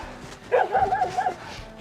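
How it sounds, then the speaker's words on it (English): A dog on a countryside public footpath gives a short burst of several quick barks at another dog being walked nearby, moderately close over quiet outdoor background. "He's barking at a dog being walked behind us."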